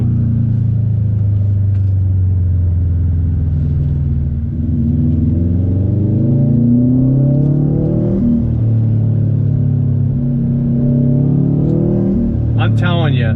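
A modified 2018 Subaru WRX STI pulls hard, its engine note rising and falling through smooth gear changes, loud from inside the cabin while someone talks over it most of the way.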